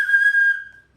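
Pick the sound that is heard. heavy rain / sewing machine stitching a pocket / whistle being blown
whistle being blown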